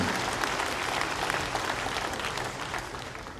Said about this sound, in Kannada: ದಯವಿಟ್ಟು ಅವರಿಗೆ ಕೈ ಚಪ್ಪಾಳೆ ಮೂಲಕ ಒಂದು ಅಭಿನಂದಿಸೋಣ